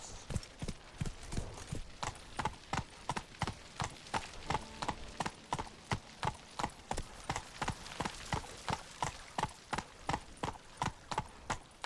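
Horse hooves clip-clopping at a steady gallop in The Witcher 3: Blood and Wine, a fast, even run of sharp, loud hoof strikes that carries on for the whole stretch with no one talking.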